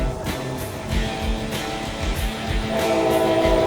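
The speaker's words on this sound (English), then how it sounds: "Got a southbound CSX train coming over it." A southbound CSX train crossing a high curved trestle in Kentucky, a steady heavy rumble of rolling wheels with faint sustained horn-like tones over it.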